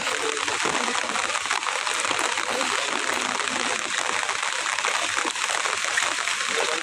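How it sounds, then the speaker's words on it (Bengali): The floodwaters of the Khowai river rush in heavy rain as a loud, dense, unbroken roar that fills the whole clip. "প্রচণ্ড বৃষ্টি এবং পানির অনেক শব্দ"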